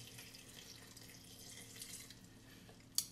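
Water poured into a container, a steady soft splashing flow at moderate distance, ending with a brief sharp clink.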